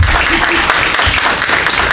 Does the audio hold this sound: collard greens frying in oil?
no